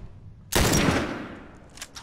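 A sudden loud burst of gunfire in The Last of Us Remastered cuts in after a quiet moment, a rapid volley of shots that decays over about a second, followed by a couple of fainter later reports.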